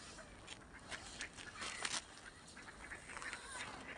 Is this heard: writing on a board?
no